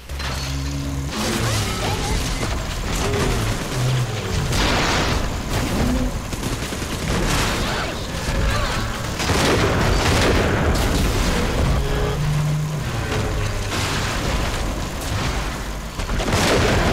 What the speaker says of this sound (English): Let's start out with the rivet gun, por favor.